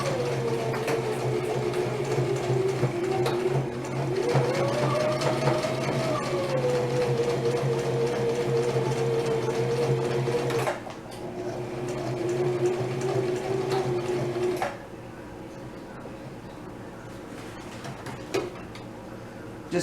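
A domestic sewing machine runs slowly and steadily with a continuous whirring hum and a faint rhythmic needle tick, pausing briefly near the middle and easing to a quieter run toward the end, with no talking.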